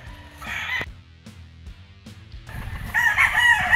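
A gamecock at a gamefarm crows twice nearby, loud and drawn-out calls separated by a short pause, with some faint background noise.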